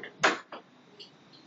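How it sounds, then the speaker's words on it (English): A home door swings shut, a sharp close thud followed by a softer second knock and faint latch clicks, brief and near. "and close the door behind me."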